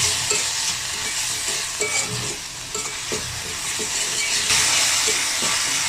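Spice paste with soy sauce stir-fried in a pan, a steady close sizzle and hiss with repeated scraping strokes of a spoon or spatula against the pan.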